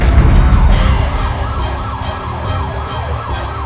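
A loud ambulance siren wails in repeated rising and falling sweeps over heavy engine rumble, very close.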